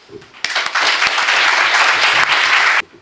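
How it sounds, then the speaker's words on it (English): A burst of loud, dense audience applause honoring the women of Ukraine at a speech by the EU ambassador, starting abruptly after a quiet moment and cutting off sharply about two seconds later. "I wish to honor you and the women of Ukraine with a big applause"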